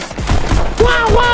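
Rapid gunfire from the VR game Pistol Whip on a Meta Quest 3 sounds as several close, punchy shots in quick succession, with a voice briefly talking alongside.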